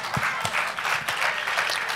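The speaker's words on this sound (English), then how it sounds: "We should applaud that." Audience applause at a Catholic ecumenical worship leader panel, a dense steady wash of many hands clapping throughout with no talk over it.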